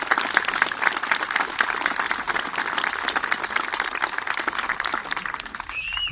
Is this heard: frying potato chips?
no